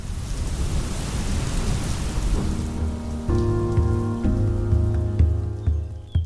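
Steady rain pours down outside a window, a dense, continuous hiss with low rumbling underneath, while soft sustained tonal notes rise in the background partway through.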